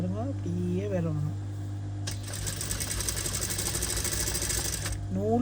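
Sewing machine stitching a tie cord for the back of a blouse, a dense steady run of rapid stitching for about three seconds after someone speaks over a constant low hum.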